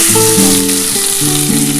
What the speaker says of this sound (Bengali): দেখো আমার তেলটা গরম হয়ে গেছে এই যে পেঁয়াজ